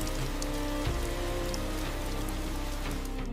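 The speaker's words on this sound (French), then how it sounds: "La pluie tomba comme des marteaux liquides sur la terre condamnée." Heavy rain pours down steadily, a dense hiss of drops drumming on surfaces with no pauses or other sounds.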